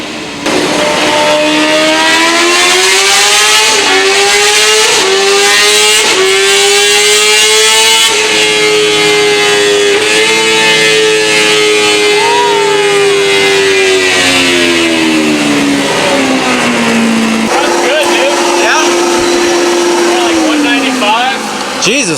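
2025 Honda CBR 1000RR-R Fireblade SP on a dyno, stock chain and sprockets, running pump gas, screams loudly through rising and falling revs, holding high rpm before settling into a steady tone near the end.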